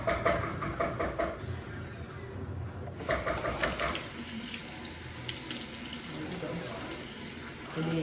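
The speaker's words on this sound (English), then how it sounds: "Rinse it off." A kitchen tap runs steadily while a small soup scooper is rinsed under it, the water hissing and splashing close by, with sputters as the flow is interrupted near the start and quiet voices underneath.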